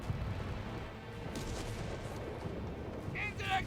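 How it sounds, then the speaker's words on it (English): Artillery shells land in a Company of Heroes 3 battle at El Alamein, a dense rumbling barrage of booms and blasts rolling continuously, with faint battlefield voices mixed in. "Another artillery strike incoming!"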